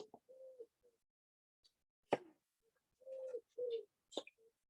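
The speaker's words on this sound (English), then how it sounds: "Can you hear the birds?" Several short, mid-pitched bird calls, likely pigeon or dove coos, sound near and fairly clear in quiet outdoor surroundings, with a few sharper chirps and brief clicks between the calls.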